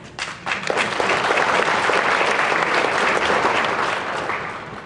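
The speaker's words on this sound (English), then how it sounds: "You applaud because I forgot to name where we're from." A concert audience at a monastery performance claps warmly, a dense burst of applause rising quickly and holding steady for several seconds before beginning to ease.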